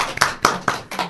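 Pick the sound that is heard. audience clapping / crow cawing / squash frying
audience clapping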